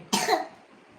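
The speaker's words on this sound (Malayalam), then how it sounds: "ചുമക്കാൻ പാടില്ല" A single short, sharp cough, close and loud, followed by quiet.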